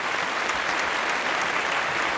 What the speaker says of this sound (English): I'm gonna give them a round of applause